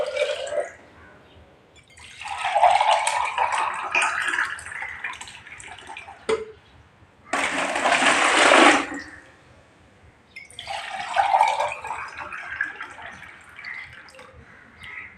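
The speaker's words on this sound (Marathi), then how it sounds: "आपल्याला आता ताक मोजून घ्यायचं आहे।" Buttermilk is poured into a jar in three separate bursts of splashing, gurgling liquid, separated by short quiet gaps.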